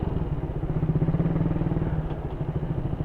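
A Flash X 150 motorcycle engine runs steadily and close by with a low, even throb, with no talk over it.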